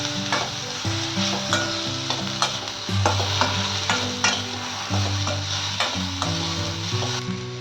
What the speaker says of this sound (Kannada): ರೆಡ್ ಕ್ಯಾಪ್ಸಿಕಮ್ಮು ಎಲ್ಲ ಹಾಕಿ ಒಂದ್ಸರಿ ಫ್ರೈ ಮಾಡ್ತೀನಿ.